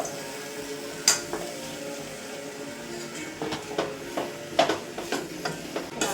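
Bitter gourd stir-fried with onion and tomato in a pan, with soft sizzling under scattered scrapes and clinks of the spatula, steady and close with no talk.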